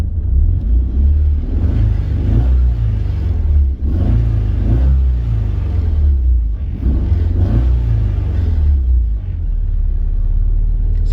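A Nissan S13 240SX with a DNA Motoring exhaust, idling around 900 rpm, is revved several times in a row, each loud, deep blip swelling and dropping back to a heavy rumble close by.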